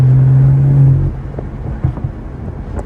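A tuned BMW 440i Gran Coupe engine holds a loud, steady rev, then drops off, followed by a rumbling idle with a few faint crackles from the exhaust.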